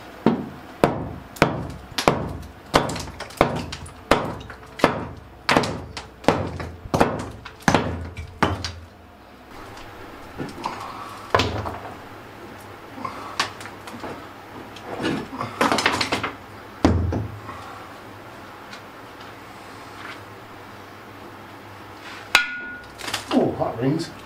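A big hammer strikes repeatedly during renovation of a cave house in Spain, first in a quick regular series of loud, ringing blows, then in scattered heavier hits with quiet gaps.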